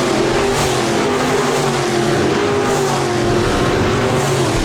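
Sprint cars race in a tight pack at Park Jefferson Speedway, a loud, continuous engine roar with a steady high drone and no break over the whole stretch.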